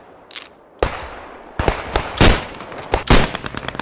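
Gunfire in the Post Scriptum war game, a burst of loud cracking rifle and machine-gun shots in uneven succession, close and sharp, with a faint shot early on.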